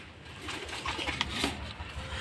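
A male pigeon in an unfamiliar cage gives soft, low cooing calls, fairly faint and close against a steady background hiss.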